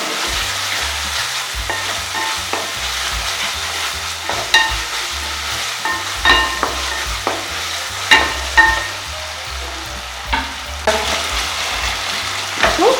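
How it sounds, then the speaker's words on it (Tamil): Tomatoes sizzle and fry in a pan for mutton keema curry, with steady crackling throughout and periodic clinks and scrapes of a spoon stirring, close and fairly loud. "தக்காளி வதங்கினோடனே நம்ம இது கைமாவும் கொஞ்சம் போட்டு இதிலே வதக்கலாம்"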